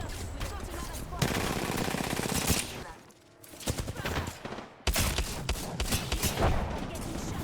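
Rapid automatic gunfire and bursts of shots from a shooter video game, loud and dense, with a brief lull midway before the firing resumes, mixed with in-game sounds and voice callouts.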